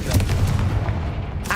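A Confringo spell explosion in Hogwarts Legacy makes a short, dense, continuous roar, loud and close throughout the brief moment.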